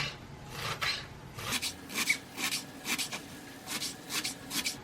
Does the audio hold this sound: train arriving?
no